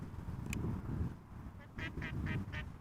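A duck quacks outdoors near Amsterdam Schiphol Airport, giving a run of four or five quick, moderately distant quacks over a low rumbling background.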